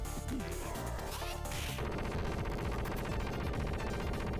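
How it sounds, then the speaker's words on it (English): A boss's machine gun attack in the Streets of Rage 2 beat-'em-up, a dense, loud, continuous rattle of retro game gunfire mixed with crashing hits and game music, with no talk. "his machine gun attack is just as nasty as ever"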